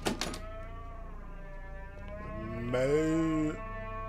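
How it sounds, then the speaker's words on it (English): A cow moos in a horror video game, a long, loud, wavering low call that rises into a strained, bending tone near the end over a steady droning game ambience, with no one talking. "That's a cow."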